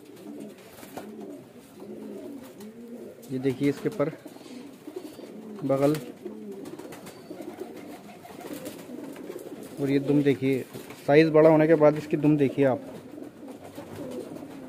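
A large pigeon and others nearby coo in continuous low, rolling calls at a pigeon sale, while someone talks intermittently over the cooing.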